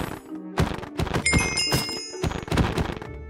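Cannon fire in the Minecraft video game: a rapid run of heavy thumping blasts over about three seconds, layered with game sound effects and no speech.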